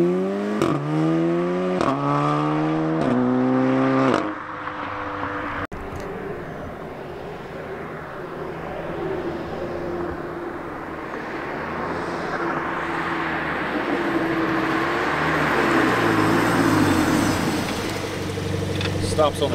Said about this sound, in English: This is my exhaust setup.